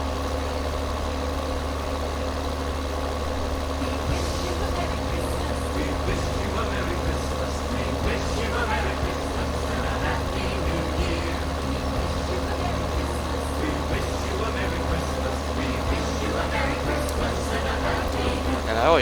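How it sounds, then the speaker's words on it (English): A tractor engine drones steadily while pulling a disc harrow in Farming Simulator 2013, a low, continuous rumble with constant pitch throughout, and a voice talks over it. "This tractor should be able to pull this disc"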